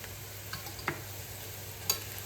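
Onion pieces frying in oil for a Rayalaseema-style country chicken curry, a steady low sizzle with a couple of faint stirring clinks, close and continuous with no talk.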